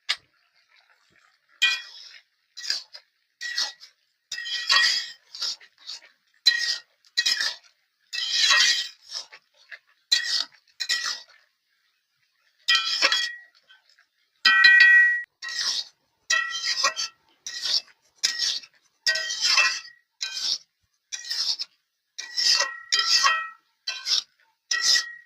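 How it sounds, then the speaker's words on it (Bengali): Spoon stirring a pot of pumpkin, Malabar spinach and shrimp curry: a steady run of short clinking, scraping strokes against the pot, close and fairly loud, with brief pauses and no talk. "দিয়ে এবার একটু নেড়ে ছেড়ে দেবো।"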